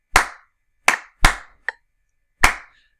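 Bare hands clap out a rhythm in a quiet room: five crisp, close claps in an uneven pattern, the fourth a lighter, shorter one, with no voices.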